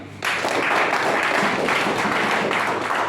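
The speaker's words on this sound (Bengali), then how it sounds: "তার জন্য একটু করতালি" An indoor audience breaks into sustained, dense applause, with many hands clapping steadily and close by for several seconds.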